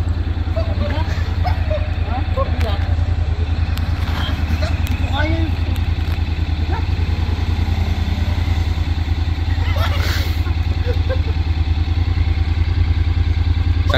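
A Honda ADV750 Special Edition motorcycle idling in neutral, a steady, loud, low engine drone throughout, with people talking nearby and faint clatter.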